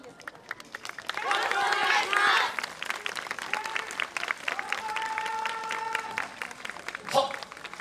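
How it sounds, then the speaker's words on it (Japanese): An outdoor festival crowd at the Odawara Essa Hoi dance contest in the Sannomaru Hall plaza claps warmly for a dance team, a swell of applause under an announcer's voice and a few tonal sounds. "温かいご拍手どうぞよろしくお願いします。"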